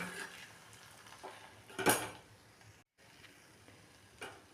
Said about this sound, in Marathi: बघा मी परत एकदा साबुदाणा ढवळून घेणार आहे